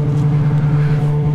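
A Honda Hornet motorcycle engine runs loud and close with a steady, strong low drone, holding an even pitch as it pulls away after a gear shift. No one speaks.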